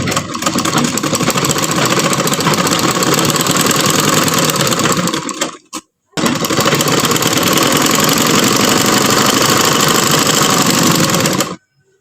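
A sewing machine stitching along the very edge of fabric, running in a loud, steady mechanical whir with a short pause midway before resuming, then stopping.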